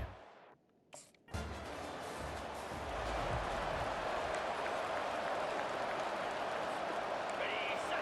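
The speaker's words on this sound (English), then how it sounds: "Listen to the crowd energy here in the early going." A large stadium crowd at Autzen Stadium roars and cheers in a steady, dense wash of noise in EA Sports College Football 25, after a brief quieter moment at the start.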